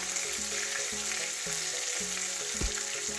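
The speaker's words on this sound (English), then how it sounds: "So this is the way we fry Jamaican fish." Jamaican-style cod fish frying in oil makes a continuous close sizzle with light stirring and a brief knock near the end.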